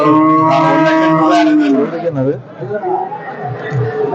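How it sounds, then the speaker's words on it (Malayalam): A bull at the Melepalayam cattle market gives a long, deep, close bellow lasting about two seconds, followed by a softer market din with people talking in the background. "നമുക്ക് ചന്തയുടെ ഹൈലൈറ്റ് ആയിട്ടുള്ള ഒരു കാളയാണത്"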